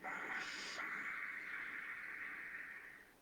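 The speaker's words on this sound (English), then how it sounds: "you can make your breath be audible and it sounds just like the ocean" A slow ujjayi ocean-breath inhale, drawn through the throat with lips closed and tongue lowered at the back, gives a soft, steady hiss lasting about three seconds, quiet and close, with no talking.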